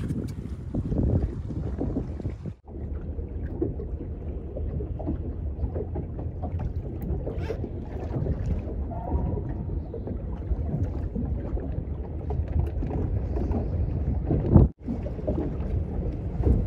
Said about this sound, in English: It's very hot, it's very windy.